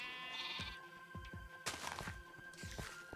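Sheep in the Minecraft video game bleat several times in short, wavering calls, one after another over a quiet background with a steady tone, close and clear.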